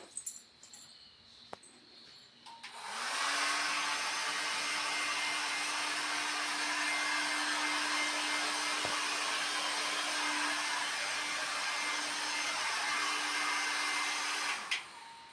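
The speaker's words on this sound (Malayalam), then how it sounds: "ഇനി നമുക്ക് മുടി ഒന്ന് ഉണങ്ങി കൊടുക്കാം ഉണക്കി കൊടുക്കാം" A handheld hair dryer blows on hair for about twelve seconds, a loud, steady whooshing roar with a faint tonal whine that switches on abruptly and cuts off near the end, with quiet handling noise before it starts.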